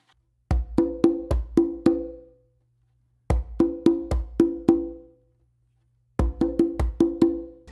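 Conga drums are struck in a practice pattern mixing deep bass tones with ringing open tones. Three bursts of quick triplet hits come close and loud, separated by short silences, with no talking.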